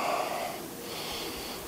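A deep breath during a yoga session for runners, heard close and fairly loud as a long airy exhale that fades over under two seconds.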